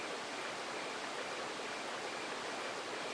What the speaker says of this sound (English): I don't know why it's still flowing towards the waterfall